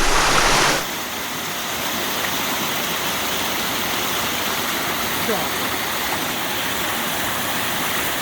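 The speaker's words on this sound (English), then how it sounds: "There's waterfall after waterfall after waterfall." Steady broadband roar of water pouring down a run of waterfalls, constant and full, beginning right after a brief louder burst at the start and holding unbroken to the end.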